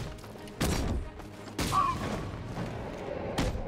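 A few sharp gun blasts from an enemy in Batman: Arkham Knight, separate loud bangs with short gaps between them, set against ambient game sound and brief noises.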